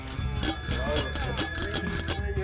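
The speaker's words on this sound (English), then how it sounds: "make sure your bell works" A bicycle bell rings repeatedly in quick bright dings before a group ride in Bend, Oregon, loud and close over a busy background.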